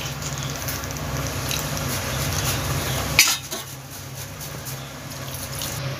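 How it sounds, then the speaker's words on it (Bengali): Chicken curry simmering and being stirred in a pot with a soft, steady bubbling hiss, then a single metal lid clank about halfway through, after which the sound turns quieter and muffled. "চাপা দিয়ে দিলাম, মাংসটা হোক।"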